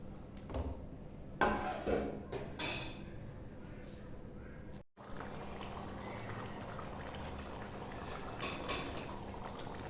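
Chicken curry simmers in a covered pot with a soft, steady bubbling hiss throughout, preceded by a few clinks and stirring noises near the start, fairly quiet and close.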